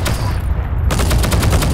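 A player's weapon fires in rapid, loud bursts in Heroes & Generals, a dense close-range rattle of shots with a brief dip before the firing resumes hard.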